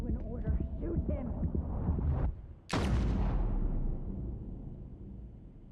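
A single heavy gunshot bursts out loud mid-scene in Death Stranding, cutting through a low rumbling backdrop and tense speech, then trails into a long fading reverberant tail.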